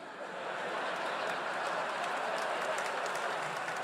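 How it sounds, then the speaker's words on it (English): A stand-up comedy audience clapping steadily, a slow, soft continuous patter of many hands heard from some distance, fairly quiet. "Slow applause, all right."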